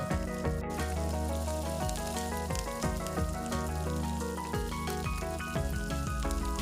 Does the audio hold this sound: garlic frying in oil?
yes